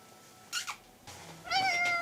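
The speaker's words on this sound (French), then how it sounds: "Bah, le chat, il est là." A large cat meows a few times close by: two short squeaky calls, then a longer, rising, drawn-out meow over quiet room tone.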